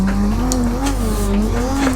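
A race car in Assetto Corsa holds a steady engine note while its tires squeal continuously through a corner, loud and close, with no talking.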